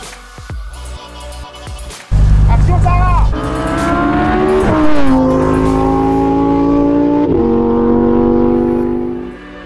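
A Lamborghini Huracán Performante Spyder roars to life after a quieter start, its engine note climbing through loud, close revs with audible gear changes and sustained acceleration before easing off at the end.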